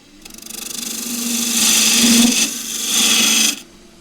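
A skew chisel cutting a taper on punky box elder spinning on a wood lathe gives a close, continuous rasping hiss over the motor's steady hum, swelling and easing across two passes.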